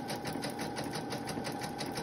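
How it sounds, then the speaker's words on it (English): A sewing machine stitches through paper book pages, a fast, even mechanical chatter running steadily at close range with no talk. "I always have the hardest time getting the sewing machine in a good spot for filming"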